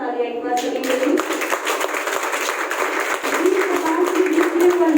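An audience in Karnal bursts into applause at a seminar, brisk sharp claps from many hands building into a steady, lively round that continues evenly for several seconds, close and clear.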